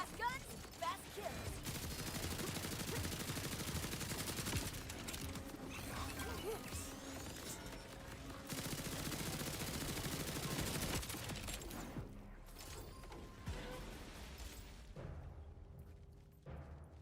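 Rapid automatic gunfire from a rifle in a video game DLC, dense and continuous in two long sustained bursts with short breaks and scattered mechanical clicks as it tapers off near the end.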